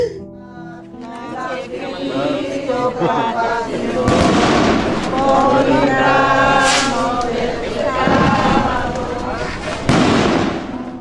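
Firecrackers crackle and pop repeatedly amid crowd noise and music at a memorial gathering, with denser bursts near the middle and end; voices and applause blend underneath.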